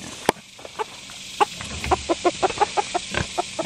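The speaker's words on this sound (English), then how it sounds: "here's our silkies. This is our rooster, Chili." Silkie chickens with a silkie rooster in a backyard coop during extreme heat and drought, giving a run of short, close clucks, sparse at first and then a quick regular series of bright clucks.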